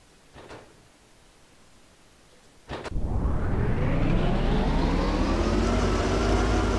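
In the video game Arma: Cold War Assault, after a couple of sharp clunks, a heavy military truck engine starts and roars loudly, holding a steady, deep, dense drone to the end.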